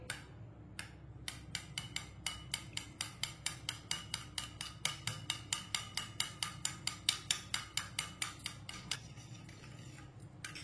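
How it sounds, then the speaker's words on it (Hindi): Eggs are whisked in a bowl with a fork, producing a rapid, regular series of sharp clinking taps against the bowl's side, close and distinct over a low background. "अंडों को अच्छी तरह मिक्स कर लेंगे"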